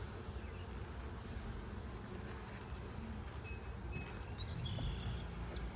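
Many honeybees hum and drone together around an open backyard hive during inspection, a continuous, steady buzz with a few faint chirps above it.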